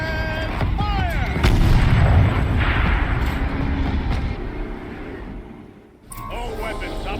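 A turret cannon in Horizon Zero Dawn fires heavy booming blasts over rumbling machinery, with a shouted voice in the mix and a brief lull before the noise returns.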